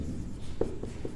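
Pen or chalk writing during a Class 10 maths lesson, a few soft scratchy strokes in a close, noisy room with no talk.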